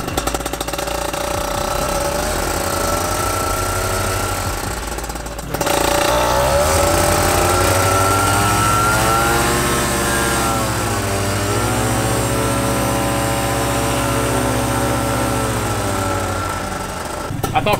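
A propeller airplane engine drones loudly and continuously, its pitch sagging and wavering as if close to stalling, then recovering, with a sharp change partway through; close and constant throughout.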